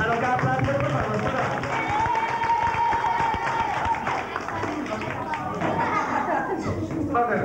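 An audience at a 1979 Lovelingschool musical claps in sustained, dense applause that stays steady and fairly loud throughout, with individual claps crackling through a continuous wash of hand noise.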